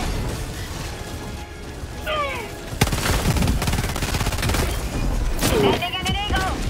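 Gunfire from a gun tower in the video game Helldivers, with sharp bursts and a loud bang partway through over continuous battle noise, while whooshes and other game effects come and go.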